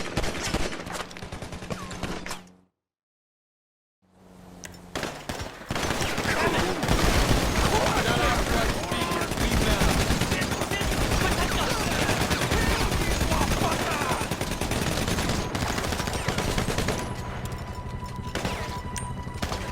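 In Grand Theft Auto V online multiplayer on PS4, dense bursts of automatic gunfire and rapid shots break off into a brief silence, then return as sustained heavy firing, with voices talking and shouting under the fusillade.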